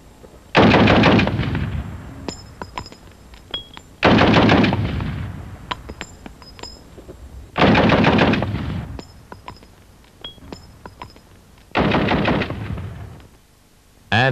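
A full-auto machine gun fires without a muzzle brake in four long, loud bursts, each a rapid hammering stream of shots followed by a ringing decay and a brief pause.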